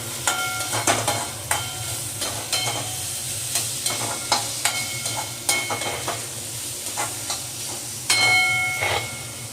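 Chopped onion and tomato fry in a pan for a bitter gourd thokku. A soft sizzle runs underneath while a spoon scrapes and stirs in repeated sharp strokes, close up, with no talk.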